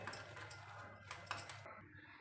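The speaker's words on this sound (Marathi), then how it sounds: "अशा विक्सने आपण छान मिक्स करून घेऊया छान मिक्स करून घेऊया छान फेटून घेऊया" A whisk beats thick hung curd (chakka) in a bowl by hand, producing several light metallic clinks and scrapes in an uneven rhythm, soft and close, before it fades to quiet.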